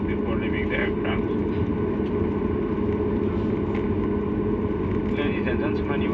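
Cabin noise inside an Emirates airliner taxiing after landing on arrival in Sri Lanka: a steady, loud low engine roar and rumble fills the whole stretch, with a cabin announcement voice over it.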